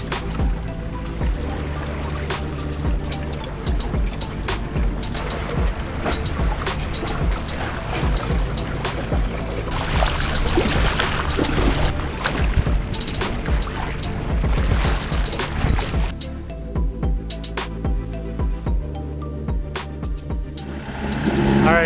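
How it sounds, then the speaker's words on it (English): A small two-stroke outboard motor pushes a sailboat along, giving a loud, steady buzzing drone with water noise throughout. The tone thins and quiets somewhat in the final few seconds. "It's pretty loud. This little two-stroke is not very quiet. We had to start motoring."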